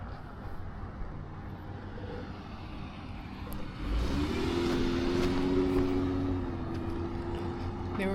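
A car speeds past close by on a street beside a pedestrian out walking, its engine rising from a steady background rumble to a louder, sustained roar that holds before easing slightly.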